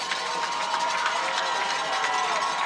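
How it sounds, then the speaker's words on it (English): A football crowd at a homecoming game in Bethalto makes steady, distant cheering and shouting, a continuous wash of noise from the stands. "now the crowd starts to make some noise here on homecoming weekend in Bethalto"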